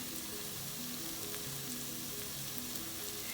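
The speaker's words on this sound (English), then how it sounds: "now I'm just going to let that simmer a little for a minute" Butter chicken sauce simmers in a pan with a steady, close sizzle and soft bubbling crackle that runs evenly through the whole stretch, no voices.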